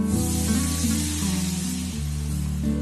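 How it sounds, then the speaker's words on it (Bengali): Water poured into a hot pan of mango shol fish curry on low flame, producing a loud, continuous hissing sizzle that barely changes for a few seconds. "জল দিয়ে দিলাম।"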